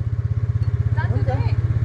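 A motorcycle engine idles close by with a steady, rapid low thumping, while a person talks over it.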